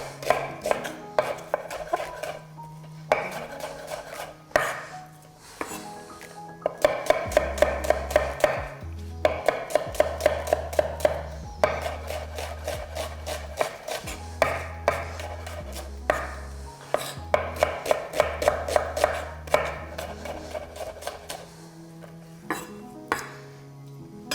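A kitchen knife chops onion on a board in quick, steady strokes, with bursts of rapid dicing between short pauses, loud and close, while a low hum sits underneath.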